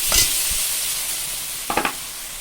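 Gobindobhog rice being stirred into ground spices in a pan that already holds chickpeas and melon seeds, for a vegetarian pumpkin dish: a few short scraping strokes over a steady low sizzle.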